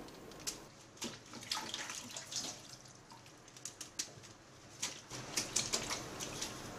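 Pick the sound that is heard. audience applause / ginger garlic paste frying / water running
water running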